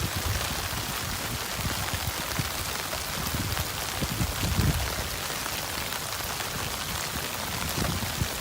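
Rain falling steadily at a campsite, a dense continuous patter of drops hitting surfaces close by, loud and unbroken throughout.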